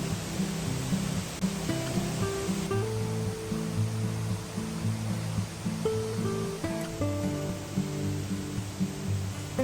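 A mountain waterfall at Tad Xao in Phou Khao Khouay, Vientiane province, rushes steadily as a constant broad hiss, with soft tonal music layered faintly on top.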